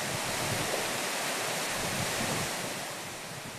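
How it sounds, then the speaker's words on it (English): A mountain waterfall pours in a steady, dense roar of rushing water, close and unbroken, fading slightly toward the end. "The girls enjoy the waterfall."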